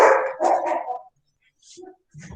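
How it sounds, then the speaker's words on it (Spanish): Several excited pet dogs indoors give a burst of loud, close barks, pause, then let out a couple of shorter yips. "Lo que les contaba de mis perritos que estaban alborotados."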